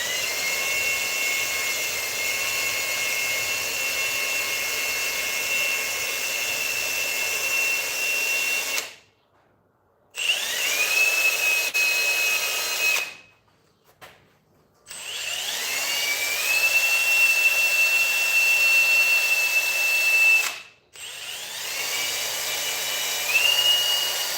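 A wire brush spinning on a power tool cleans a motorbike part in a shed, a loud, steady high-pitched whir with rising spin-ups and a few abrupt stops where the tool cuts out.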